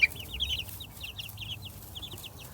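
Chickens cluck softly in a steady stream of short, quick calls, heard at a modest distance over a low background hum, with no voices.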